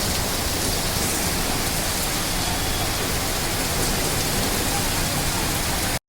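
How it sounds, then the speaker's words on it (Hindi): Heavy rain pours down in Hyderabad during a sudden afternoon storm, a dense, continuous roar of water on surfaces that stays loud and even throughout, with no voices. "आज दोपहर 4 बजे के बाद हैदराबाद में अचानक मौसम तब्दील हो गया और जोरदार बिजलियों के दरमियान तेज बारिश शुरू हो गई।"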